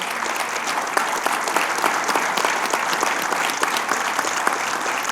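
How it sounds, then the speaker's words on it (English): A crowd applauds a panel at a youth sports discussion event, sustained dense clapping at even loudness throughout, with no talking over it. "Please, everyone, give it up for our epic panel."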